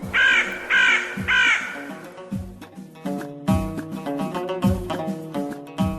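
A crow caws loudly in repeated bursts, with clear harsh calls near the start and more rapid cawing later, nearby and prominent.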